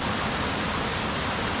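Steady rushing water flows continuously at a lagoon campsite, a broad even hiss like a nearby stream or small waterfall.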